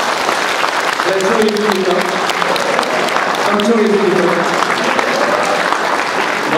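A crowd at a party founding convention breaks into steady, sustained applause for a unanimous vote, loud and close throughout, with someone speaking over the clapping.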